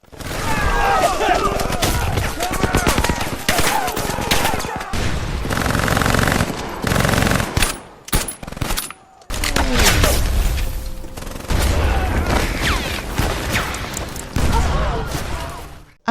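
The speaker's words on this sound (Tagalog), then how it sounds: "Sinubukan nilang lumaban pero may mga kanyon ang kalaban na walang tigil sa pagputok." Rapid bursts of gunfire and heavy cannon booms crash almost without pause, loud and chaotic, with shouting voices mixed into the din of battle.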